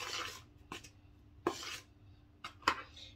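Dry pancake ingredients stirred in a bowl, with a few sharp clinks and scrapes of a utensil against the bowl, close and spaced unevenly, with no voices.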